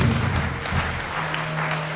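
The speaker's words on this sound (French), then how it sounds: "Applaudissons pour la gloire." An audience at a book launch applauds in a brief burst of mixed clapping, fairly loud and steady, over a low sustained musical hum.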